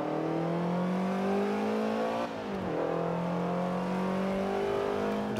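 A race car in Forza Motorsport 7 holds a steady engine whine, drops pitch briefly as it shifts down a gear, then climbs again while accelerating, loud and close.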